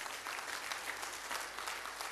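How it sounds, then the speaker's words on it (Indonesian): A church congregation applauds God, a continuous wash of clapping heard faintly and from a distance, steady and unbroken for the whole moment. "berikan tepuk tangan bagi Allah kita."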